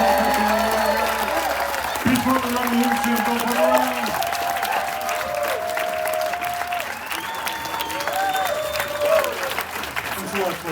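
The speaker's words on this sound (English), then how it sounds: "applause, please. Keep it going for Determined." An audience claps steadily for a performer, sustained applause with scattered cheers filling the room while a voice talks over it throughout.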